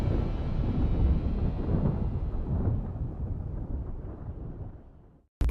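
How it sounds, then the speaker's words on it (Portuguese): A long rumble of thunder during a lightning storm, loud and broad at first, then slowly fading over several seconds before cutting off abruptly. "Escutou o trovão"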